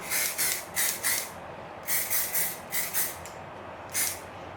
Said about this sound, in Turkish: Elimde tek kalan saç spreyi bu çünkü genelde çok fazla kullanmıyorum.